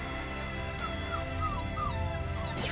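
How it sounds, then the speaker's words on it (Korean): A small puppy whimpers for its mother near a factory, giving high, thin whines and yips that rise and fall repeatedly over a low background hum, with no talking. "하루가 멀다 하고 어미를 찾아 낑낑대며 우는"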